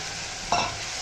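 Vegetables fry in hot oil in a pan while cooking citron kuzhambu, a soft steady sizzle with one brief louder stir or scrape in the middle, heard alone.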